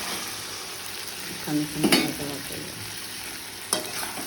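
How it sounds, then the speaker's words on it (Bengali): Marinated mutton going into hot spice paste in a pan, with a steady low sizzle and a few louder stirring scrapes near the start and one more later, close and alone. "আমরা ম্যারিনেট করে রাখা মটনটা এখন মশলার মধ্যে দিয়ে দেবো"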